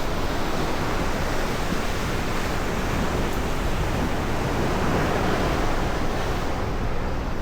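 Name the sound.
ocean waves breaking on a beach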